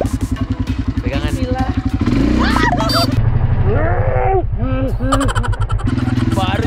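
An ATV engine revs loudly on a forest trail, its steady harmonic drone rising and falling through several throttle pushes, with people talking and exclaiming over it throughout.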